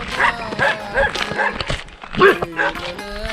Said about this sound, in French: Des petits chiens partout.